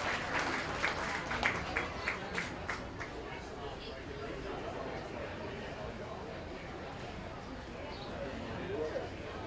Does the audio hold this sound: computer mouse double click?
no